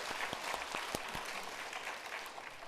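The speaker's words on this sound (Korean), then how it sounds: "박수 좀 한번 줘." A church congregation applauding during a New Year prayer meeting, steady crowd clapping with a few sharp, distinct claps standing out, heard at a distance and fairly faint.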